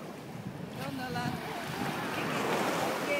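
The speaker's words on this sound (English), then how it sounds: "Now we're gonna jump some waves." Ocean waves surging and washing on an Atlantic beach, a steady broadband roar that builds slightly louder over the clip, with wind buffeting the microphone and no clear speech.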